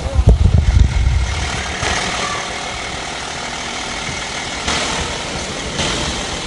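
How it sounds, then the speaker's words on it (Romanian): A car engine starts with a few loud low bursts, then settles into a steady idle that runs on alone. "Pune la motor, băieți, iar să-l auzi"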